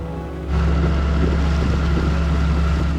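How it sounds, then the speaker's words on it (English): A boat's engine gearbox with a fault makes a loud, steady drone with a ringing hum while underway along the southwestern Norwegian coast. It starts abruptly after a brief quieter moment, with wind noise mixed in. "I was continuously more aware of a bad sound coming from the engine gearbox"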